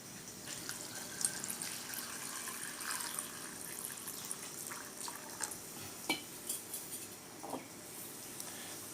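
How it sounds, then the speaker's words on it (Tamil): Water pours and splashes into a metal pot holding washed papaya, a running trickle with scattered clinks and drips against the vessel, no voices. "இதில் முங்குற அளவுக்கு தண்ணி ஊற்றிக்கலாம்."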